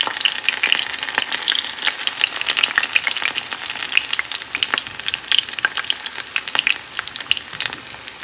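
Bora fritters frying in mustard oil: a continuous close crackling sizzle with dense sharp pops throughout, loud and steady, with no voices.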